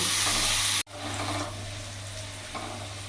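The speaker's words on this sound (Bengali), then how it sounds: "আলুটাকে লাল লাল করে ভেজে নেব।" Potatoes fry in hot oil with a loud, steady sizzle that cuts out for an instant, then resumes slightly softer with light stirring and scattered crackles.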